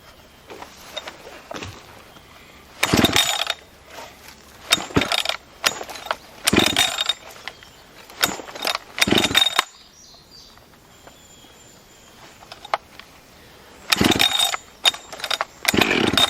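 A gas chainsaw with compression relief, primer and choke is pull-started repeatedly during eastern red-cedar cleanup, giving several sharp rope-pull bursts between quiet gaps, close and loud, with no clear engine catch.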